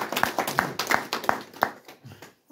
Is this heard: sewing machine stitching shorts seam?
no